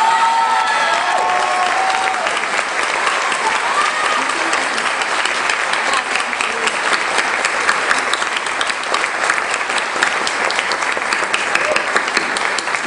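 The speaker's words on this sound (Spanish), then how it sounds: "Por favor, un gran aplauso." A studio audience applauds for a guest, dense and continuous clapping that holds steady and fairly loud for about thirteen seconds, with scattered voices mixed into the crowd.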